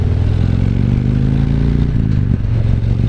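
A Harley-Davidson motorcycle engine with dual 4-inch Vance & Hines exhaust pipes revs loud and close, a deep throbbing rumble that rises and falls while it runs, with no voices.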